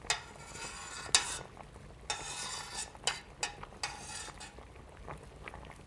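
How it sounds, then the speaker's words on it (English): A spoon stirs soup in a pot, giving scattered metallic clinks and scrapes at an irregular pace, quiet and close, with low kitchen background and no talk. "then turns back to her pot and stirs"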